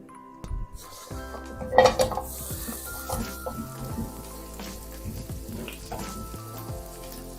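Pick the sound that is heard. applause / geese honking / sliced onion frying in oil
sliced onion frying in oil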